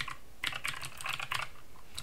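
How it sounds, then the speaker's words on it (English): Computer keyboard typing, a quick burst of clustered key clicks at close range, quiet and alone. "I'll type it back in like this."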